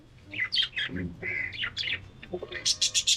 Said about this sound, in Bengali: এই কবুতরটা এত পরিমাণ দুষ্টু